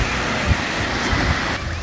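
Ocean waves washing onto a beach, a steady, broad rushing surge with soft swells and wind noise, fairly close and continuous, with no talking.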